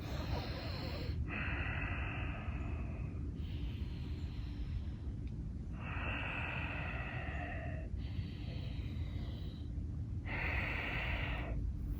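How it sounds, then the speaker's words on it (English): Slow, deep breathing during a stretching routine: three long exhalations rushing out one after another, separated by quieter inhales, close to the mic over a steady low background hum. "3 more deep breaths."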